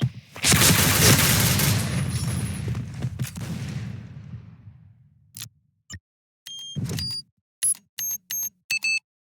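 A grenade blast in the Point Blank shooter game: a loud booming explosion rolls out and decays over about four seconds, followed by scattered sharp clicks and brief electronic beeps, up close.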